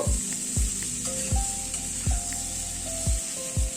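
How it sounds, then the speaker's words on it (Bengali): Potato and papaya pieces sauté in oil with turmeric and salt, giving a constant loud sizzle broken by regular scraping strokes of a spatula about once a second. "প্রথমে তেলের উপরেই আলু পেঁপেটাকে একটু কষিয়ে নেব"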